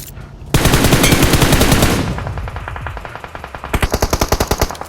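Automatic gunfire in PUBG Mobile during a tournament match: a loud sustained burst of rapid shots, then a sparser stuttering run, then another tight rhythmic burst near the end.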